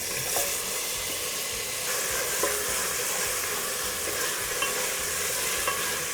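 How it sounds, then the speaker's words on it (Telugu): Drumstick pieces and onions frying in oil for sambar, a steady close sizzle with occasional light clicks of stirring. "ములక్కాయలు నూనెలో కాస్త వేగనివ్వాలి"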